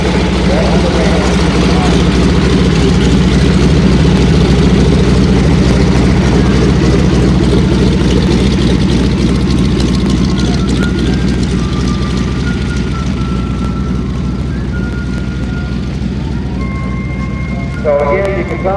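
At an air show, an airplane taxis back toward the ramp: a steady, loud engine drone with heavy low rumble runs throughout, while an announcer talks over it.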